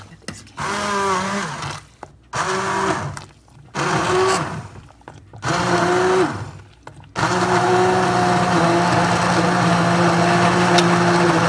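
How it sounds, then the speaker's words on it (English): A motorized immersion blender purees carrot ginger soup, whirring in several short bursts with pitch shifts, then running steadily for several seconds, loud and close. "I'm going to use my immersion blender to puree this mixture"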